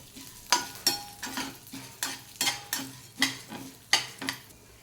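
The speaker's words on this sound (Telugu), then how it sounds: "ఒక హాఫ్ టీ స్పూను ధనియాలు అలాగే ఒక పావు టీ స్పూన్ జీలకర్ర వేసుకొని వీటిని సిమ్లో పెట్టి వేయించుకోవాలి" Chana dal, urad dal, coriander seeds and cumin are dry-roasted on low heat in a pan, stirred with a rhythmic series of about ten scraping strokes, close and clear, with no talk.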